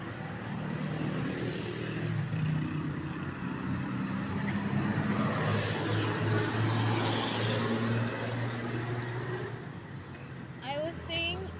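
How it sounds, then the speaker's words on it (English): Roadside traffic beside a bus stop makes a loud, continuous roar of passing cars and heavier vehicles that rises and falls steadily without a break. "I am on the side of the road. That's why you are having a lot of noises."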